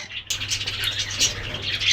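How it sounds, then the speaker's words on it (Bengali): A colony of twenty to thirty budgerigars gives off steady, busy chirping and squawking, a dense overlapping chatter that runs throughout without any talk. "আমি একটা কলোনির মধ্যে প্রায় বিশ থেকে তিরিশটা বাজিকার পাখি ছাড়ছি"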